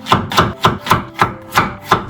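A kitchen knife slices through a raw potato on a cutting board for microwave steaming, giving eight steady, evenly spaced chops, close and loud, with no talking.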